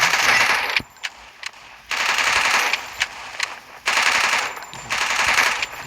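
Bursts of rapid automatic gunfire from the mobile shooter Free Fire come in three loud sustained volleys, with short single shots in the pauses.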